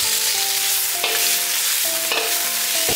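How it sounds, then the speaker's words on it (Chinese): Abalone slices with preserved radish are stir-fried in a hot wok. A loud, close, continuous sizzle is broken by two sharp scraping clanks of the spatula against the wok. "再倒入鲍鱼片"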